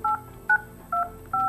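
Telephone keypad tones dialing an extension during a blind call transfer: four short two-pitch beeps, evenly spaced and clear, with no talk.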